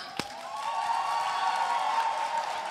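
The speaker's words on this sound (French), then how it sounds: "40 ans et moins par applaudissement." Applause and cheering from a comedy-show audience: a sharp clap starts it, then a sustained wash of clapping with a held whistle or cheer tone over it, moderately quiet.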